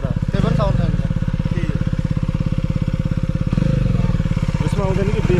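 A KTM Duke 250 BS6 motorcycle fitted with an Akrapovic exhaust idles up close with a steady, throaty pulsing beat and rises briefly midway, with talk over the engine.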